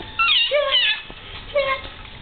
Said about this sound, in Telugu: చిన్న పిల్లిగాడు